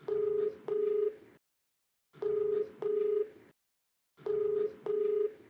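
Outgoing phone call ringback tone: three pairs of double rings with silent gaps between them, clear and steady, no voices.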